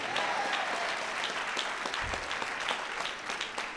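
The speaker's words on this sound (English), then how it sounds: "Again, keep clapping for our constituents." A town hall meeting audience claps for constituents in a dense, sustained round of applause that keeps a steady level throughout, with no clear speech over it.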